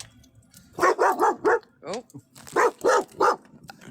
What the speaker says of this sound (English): they muted because the dog was going nuts